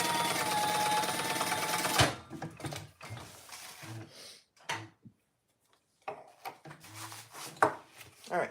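A sewing machine bastes fabric for a garment's top facing, stitching in a fast, steady mechanical chatter for about two seconds before stopping; afterward come scattered clicks and handling noises, close by, with a little quiet talk.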